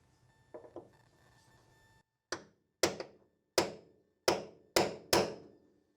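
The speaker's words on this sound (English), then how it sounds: "So I'm going to hammer that down just a little bit because I love using the hammer." A hammer strikes a deformed part on an air-cooled Porsche 911 six times in an even, sharp rhythm, ringing metallic blows close by after a few soft taps and handling noise.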